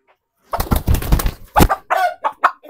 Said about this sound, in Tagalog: bagong tandang dito